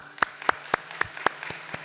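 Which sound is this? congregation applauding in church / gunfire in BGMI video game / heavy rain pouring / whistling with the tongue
congregation applauding in church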